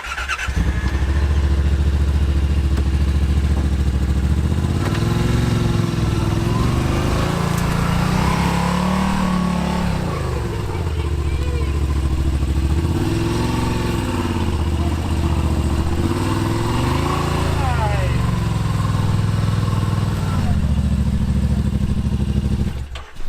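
Yamaha RMAX2 1000 side-by-side in low-range crawl mode climbing over a rock pile, its engine droning loudly and continuously with the pitch rising and falling as the throttle works, plus some clatter of the vehicle over rocks.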